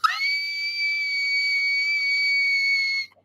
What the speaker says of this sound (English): Did y'all hear that? Whistle tone.